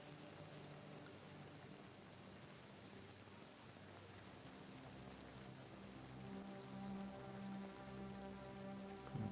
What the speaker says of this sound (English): Where's the rain button here?